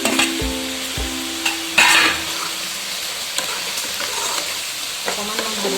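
Fried potatoes tossed into a pan of cooked spices for a tomato fish curry, hissing steadily while a utensil scrapes and stirs in a few sharp bursts, close up with no talking.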